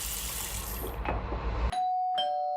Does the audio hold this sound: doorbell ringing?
yes